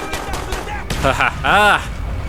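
Sniper rifle fire in Call of Duty Black Ops, with loud sharp game gunshot bursts ringing out amid busy in-game sound, the strongest blast landing near the end of the clip.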